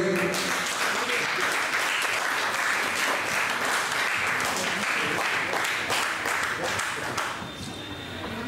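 An audience applauds at an award certificate presentation, sustained dense clapping from a crowd that carries on for several seconds before thinning slightly near the end.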